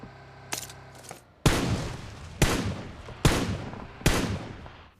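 About six loud, separate gunshots from an assault rifle in PUBG Mobile, fired into a vest during damage testing, each with a sharp crack and a decaying echo, spaced roughly a second apart.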